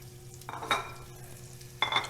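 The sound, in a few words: meat shanks sizzling as they sear in hot oil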